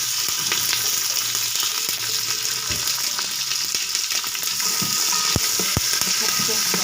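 Onions and curry leaves fry with a steady broadband sizzle in a pan, punctuated by a few sharp clinks and scrapes of a spoon stirring them, close and fairly loud throughout, with no talking.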